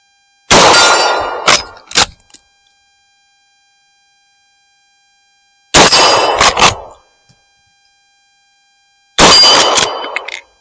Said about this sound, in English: I'm going to shoot various steel plates and just demonstrate how the old Winchester does.